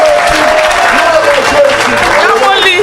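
A church congregation at an evangelist's service claps loudly and steadily throughout, with a voice speaking over the applause.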